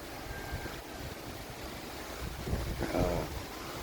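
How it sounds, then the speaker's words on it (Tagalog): Gusty wind buffets the microphone beside the sea, a steady low roar with surf-like washes and a stronger gust near the end, no one talking. "Malakas ang hangin, no?"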